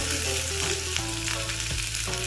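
Black mustard seeds and green chili crackle and sizzle steadily in hot white oil, a close, continuous frying hiss with small spits throughout and no voices.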